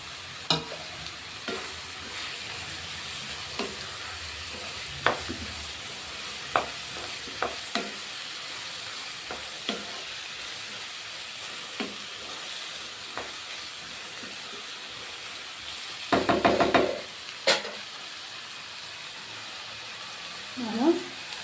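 Tomatoes frying in a pan for an onion and tomato masala sit under a low steady sizzle, broken by regular scraping stir strokes and a louder clattering burst near the end.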